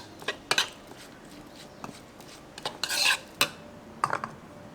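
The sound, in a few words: stirring tofu salad ingredients together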